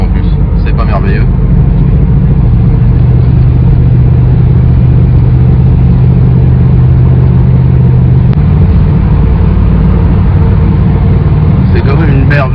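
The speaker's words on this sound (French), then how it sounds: "C'est quand même une merveille cette bagnole là, putain, ça roule bien." A Chevy car drives along and accelerates, its engine a loud, continuous rumble heard from inside the cabin, with a voice speaking occasionally over it.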